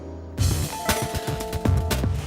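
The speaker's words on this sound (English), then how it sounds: "Karen, did I really need the doorbell?" A doorbell at the entrance of a green-architecture home in Chicago rings with a few clear chime tones under some clatter and movement, loud and close, with no speech.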